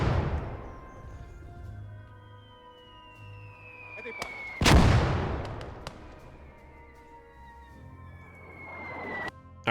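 Gunfire and mortar fire in the video game Gates of Hell: scattered sharp shots and one loud blast ring out over a battlefield, with long whistling tones trailing between them and voices talking alongside.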